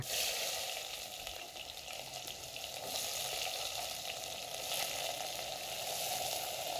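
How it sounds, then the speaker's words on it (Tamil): Three large sliced onions fry steadily in a pan, a continuous soft sizzle with a faint crackle throughout and no voices. "வெங்காயம் நல்லா பொன்னிறமாக வதங்கிடும்."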